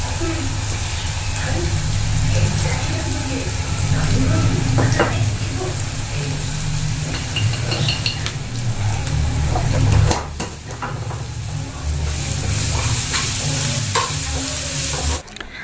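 Onions frying in a pan in a home kitchen, a steady loud sizzle with stirring scrapes throughout and a clattering knock near the end.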